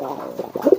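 A male racing pigeon, kept loose rather than in a loft, gives a few low throaty coos close by, rising into a short burst of rolling calls near the end over a quiet background.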